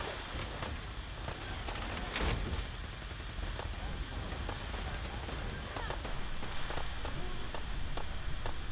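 Raiders' gunfire in a Fallout 4 arena, a dense, continuous crackle of shots with a sharper burst near the start, steady and fairly loud throughout.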